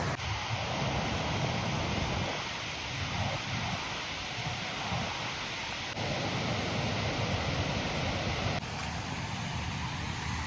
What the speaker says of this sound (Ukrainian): Не знаю, чи вам видно, але напевно вже чутно. Це водоспад.